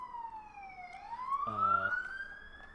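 An emergency siren wails in a single long sweep, dipping then rising in pitch, loud and clear over a quiet background, with a brief buzzy burst partway through.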